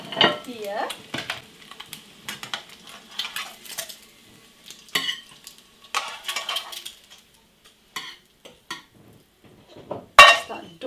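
Fried eggs being lifted from a pan onto a plate, with intermittent scraping of a utensil, soft clinks and a faint lingering sizzle, close and irregular, with a sharp clatter near the end.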